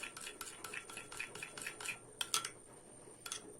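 Rapid, rhythmic scraping taps of a utensil stirring melted chocolate with oil in a bowl, fairly quiet and close, with a few louder clinks near the end.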